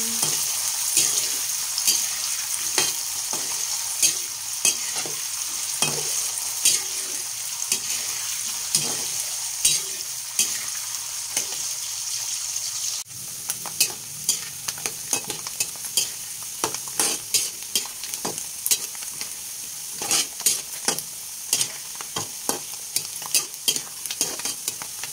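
Food frying in a pan is stirred repeatedly, with quick scraping strokes and clicks of a utensil over a constant sizzle, growing busier and more rhythmic in the second half.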